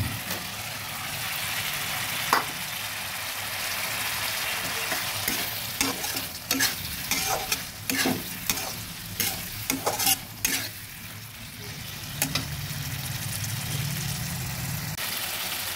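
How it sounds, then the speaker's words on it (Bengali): Fried potatoes are stirred into a sizzling spice mix with salt, a continuous hiss of frying under repeated scraping and clinking of a spoon against the pan, with a low steady hum beneath. "আর দিয়ে দিচ্ছি ভাজা আলুগুলো।"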